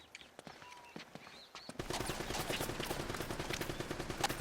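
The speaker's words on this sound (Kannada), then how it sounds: "ಓಕೆ, ಅವನ ಹತ್ರ ಮಿಷಿನ್ ಗನ್ ಇದೆ" Sustained machine gun fire in Uncharted: Drake's Fortune, a rapid, dense stream of shots that starts abruptly after a quiet stretch of faint clicks and then continues loud and unbroken to the end.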